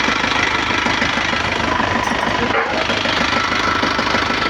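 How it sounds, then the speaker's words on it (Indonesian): A Nissan Panther diesel engine idles roughly just after starting, with a loud, steady, close-up knocking clatter and slight vibration throughout. "Ini kan masih agak goyang karena baru start awal."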